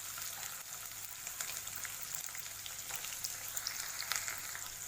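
Chopped onion fries quietly in oil with bay leaf, dried red chilli, cinnamon and cloves, a faint, even sizzle and crackle with scattered small pops throughout.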